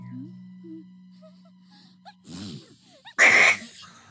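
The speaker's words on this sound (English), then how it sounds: "Sneezing powder" A cartoon pony sneezes after a sneezing-powder prank, with a quiet tone and small squeaks at first, then breathy build-up sounds and one loud, sharp sneeze near the end.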